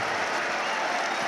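A packed cricket crowd rises to applaud Joe Root's Test hundred, with dense, sustained clapping and cheering washing across the ground.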